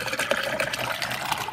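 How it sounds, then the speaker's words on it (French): Water runs steadily from a waste-water tap while rinsing a camper's toilet cassette, a continuous splashing, gurgling flow heard close up for a brief moment. "je me mets sous mon robinet d'eau usée"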